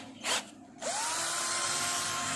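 An electric drill spins a wool polishing pad for buffing car paint, kicking in after a short pause and then running as a close, steady, high-pitched whine through to the end.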